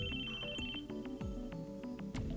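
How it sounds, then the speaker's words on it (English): Phone ringtone in the Chaos;Head Noah visual novel, a rapid repeating electronic ring pattern that plays loudly and continuously over music. "The sudden ringing of my phone startled me."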